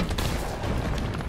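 Rapid gunfire in Resident Evil 3, a dense burst of repeated shots close by and loud across the whole moment, with no pauses between them.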